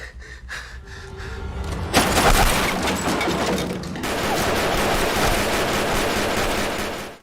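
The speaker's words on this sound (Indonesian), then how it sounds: "Melihat tembakan Samidi yang sangat jitu, Jung-suk pun memilih untuk melarikan diri." Loud bursts of gunfire erupt in rapid volleys, dense and sustained, with a brief shout and clatter at the start.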